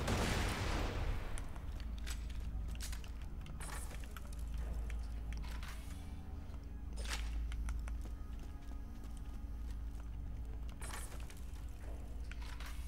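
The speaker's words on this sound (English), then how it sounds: "Oh, it's a turret." Turret fire in the shooter game Borderlands 2 comes as bursts of sharp, crackling shots over a deep, constant droning background, loud at first and then in scattered volleys, with no voices.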